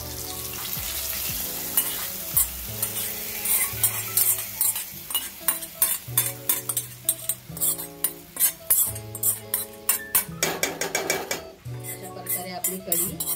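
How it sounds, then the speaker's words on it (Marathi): A hot spice tempering sizzles as it goes into a Khandeshi kadhi with fried bhaji fritters, with a loud hiss and a quick run of metal clinks and scrapes from stirring the pot. "आणि आता फोडणी घालूया."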